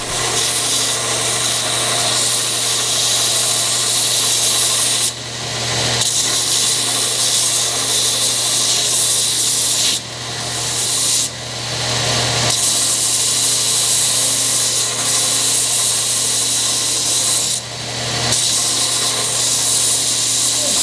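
A belt sander grinds steadily against a wooden hammer handle in long passes, loud and close, stopping briefly several times before starting again.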